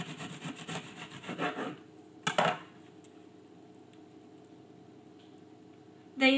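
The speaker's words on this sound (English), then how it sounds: "I'm going to cut it using serrated knife and I will cut it at the angle, not straight." A serrated knife saws through a baked log of coconut, white chocolate and lime biscotti, producing close, crunchy rasping strokes in short bursts, then a quiet pause before a final scrape.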